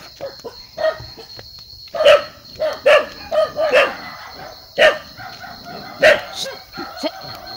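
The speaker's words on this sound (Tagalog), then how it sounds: "Ang ingay ng mga aso." Dogs bark repeatedly, sharp yaps in quick irregular bursts, fairly close, with pauses between volleys.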